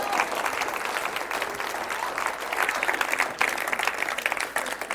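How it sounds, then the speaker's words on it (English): Audience applause after a game contestant finishes playing: a crowd clapping steadily and fairly close, dense and continuous for the whole stretch with a brief dip near the end. "Give a round of applause"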